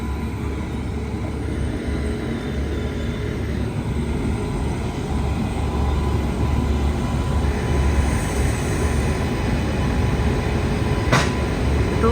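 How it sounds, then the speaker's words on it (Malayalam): An express train hauled by a WP7 electric locomotive from the Tughlakabad shed runs along in a steady, loud rumble of wheels and carriages, with a brief sharp clank near the end. "തുഗ്ലക്കാബാദ് ലോക്കോമോട്ടീവ് ഷെഡിന് കീഴിലുള്ള WP7 ആണിത്"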